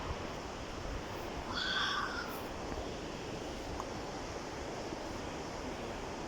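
A river near the Zacatlán waterfalls flows in a steady, soft rush heard from a short distance, with a crow cawing briefly partway through.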